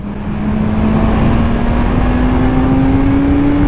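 A 2022 Suzuki GSX-S1000 motorcycle engine runs loud and close at high revs, holding a continuous whining drone whose pitch climbs slowly and steadily.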